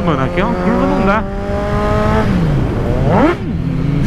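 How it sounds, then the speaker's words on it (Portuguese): A motorcycle engine revs hard while the rider pulls a wheelie, rising and falling in pitch in repeated surges, loud and near, with someone talking over it. "Tá uma delícia empinar essa moto"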